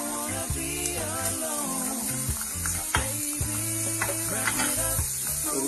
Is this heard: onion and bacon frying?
yes